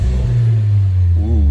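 A 2024 Volkswagen Jetta 1.5T engine fitted with an APR cold air intake revs from idle into a steady, loud, close drone, with a second brief rev rising near the end.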